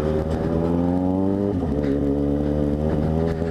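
Yamaha XJ6 motorcycle with a straight-through open exhaust, roaring loud and close on a dirt road: a steady deep engine rumble with strong harmonics and brief revs in pitch, alone without talk.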